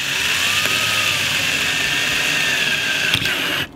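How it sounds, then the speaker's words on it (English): A Ryobi cordless lithium-ion power drill runs continuously at a steady whine, close and fairly loud, its pitch shifting slightly before it winds down at the end. "Got my nice little Ryobi drill here."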